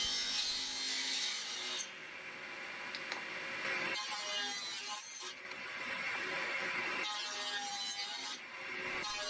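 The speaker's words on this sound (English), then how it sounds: "Cutting into the wood in this orientation is hard on the saw, so this allowed me to make the cuts in 2 passes." A table saw cuts wooden tenons using a tenon jig, giving a soft, continuous rasping, sawing noise with a few brief dips, heard fairly faint and without voices.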